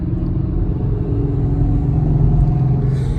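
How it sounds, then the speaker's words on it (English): A halfway classic truck passes close by with a steady, loud low engine rumble that holds for a few seconds with no talking. "We're about to have like a halfway classic truck right here."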